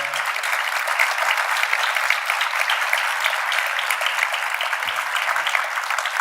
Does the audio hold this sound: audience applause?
yes